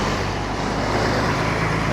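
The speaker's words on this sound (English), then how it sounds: "Excuse the traffic." Steady road traffic on a street corner in Cabo de Palos, a continuous broadband roar of passing vehicles close by with no distinct pauses and no talk.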